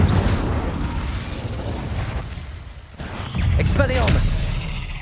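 An Incendio fire spell goes off in Hogwarts Legacy with a loud whooshing burst and crackling roar that fades, then flares again with popping crackles. A voice is heard around it.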